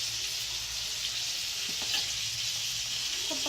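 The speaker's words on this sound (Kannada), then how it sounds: "ಅದು ಬಾಯ್ಲ್ ಆಗಲಿ." Food cooking in a pot gives a steady, close hiss of sizzling and bubbling with faint stirring clinks, continuous throughout with no talk.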